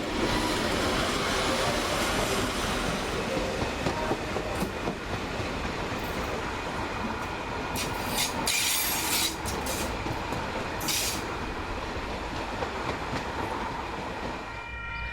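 A train rumbles steadily along the rails in New Zealand with continuous broadband noise, brief brighter bursts of rattling and clatter midway, no voices.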